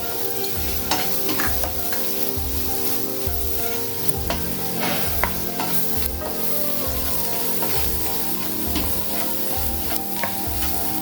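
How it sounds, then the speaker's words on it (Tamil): Steady sizzling and crackling of potatoes sautéing in a pan with chilli and turmeric powder, with a regular scraping rhythm of stirring throughout, close and fairly loud, no voices. "நல்லா கொஞ்சம் வதக்கிட்டே இருக்கலாங்க"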